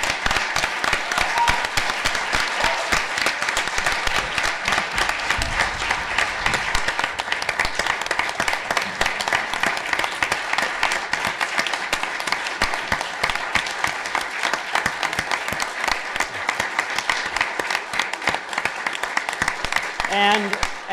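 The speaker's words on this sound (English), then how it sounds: "I just want all of us to offer you in particular and everyone a round of applause." Sustained, dense applause from a library audience at an LGBTQ movement panel in San Francisco, clapping continuing evenly for the whole stretch.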